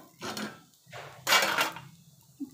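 A lid is lifted off a pan while Malvani ghavan rice crepes cook, producing a few close, hollow metallic clanks and scrapes with a short quiet gap between them, then a small final knock, with no talking.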